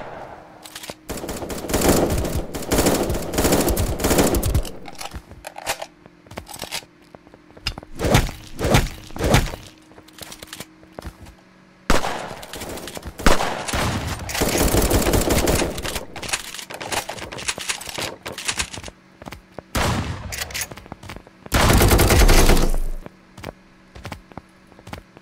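Bursts of rapid gunfire from the Fortnite-style 1v1.LOL shooter, loud clusters of automatic shots separated by brief pauses and lone thunks, carrying on alone across the whole stretch.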